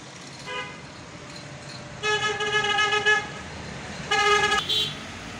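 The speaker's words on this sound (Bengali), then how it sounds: "দেখতে পাচ্ছেন একেবারে ব্যস্ত রাস্তা" Busy road traffic near a roadside two-storey house in Ashulia near a factory, with a steady rumble of vehicles and several car horns honking in short bursts and longer blasts, fairly close.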